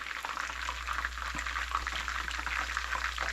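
Chicken thighs frying in a pan outdoors, a dense, steady sizzle and bubbling crackle with a low constant hum beneath, close and continuous without talk.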